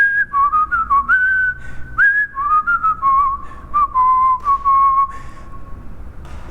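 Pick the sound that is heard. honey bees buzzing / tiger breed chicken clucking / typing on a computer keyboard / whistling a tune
whistling a tune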